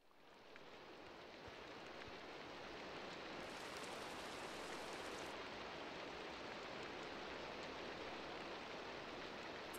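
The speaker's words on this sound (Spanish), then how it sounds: "Quiten la lluvia, porfa, Admi" Rain falls in the Minecraft video game as a soft, steady hiss that fades in after a moment of silence and holds evenly, with no voices.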